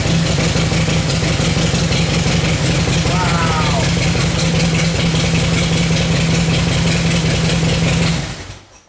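A cold motorcycle engine fitted with a new X Rated MX3L battery cranks briefly and fires, settling into a loud, steady idle that runs close up for most of the stretch before cutting off near the end.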